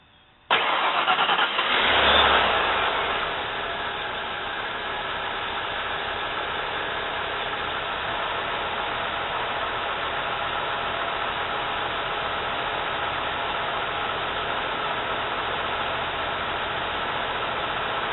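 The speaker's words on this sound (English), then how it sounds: "So now when I start the car, that gas is drawn into the engine." Car engine fitted with an HHO hydrogen kit cranks briefly, catches, and settles into a steady, even idle that holds close and constant with no talk.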